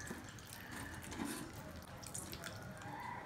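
Cut potatoes rinsed under running water in a strainer, a steady moderate splashing and trickling flow with no talk.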